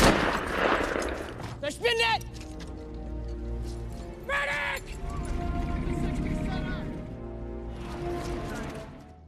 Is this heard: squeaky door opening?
no